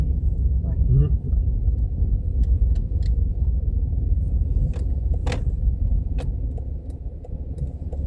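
Car traffic rolls past in a steady, continuous low rumble of engines and tires along a road on the coast of Maine, with a brief thump and a few faint clicks rising above the road noise.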